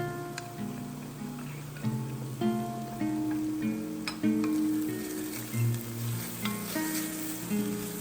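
Chopped onions sizzling in a stew pot as they cook, a continuous close frying hiss broken by light clinks and scrapes of a utensil.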